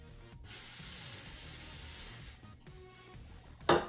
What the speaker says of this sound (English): Spray the parchment paper.